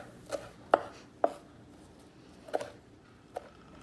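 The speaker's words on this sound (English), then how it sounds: "We do the same with the fresh parsley. We wash it, we dry it very well, and start chopping it in small pieces." Fresh parsley being chopped with a knife in a kitchen, five sharp, separate taps on the cutting board at uneven intervals, close and fairly quiet with no talking.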